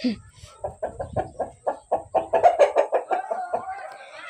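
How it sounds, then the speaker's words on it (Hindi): A steady run of rhythmic clucking from a fighting rooster, close and fairly loud, with short pulsing calls and no talking. "यार ये मुर्गे ऐसे ही लड़ते रहते हैं"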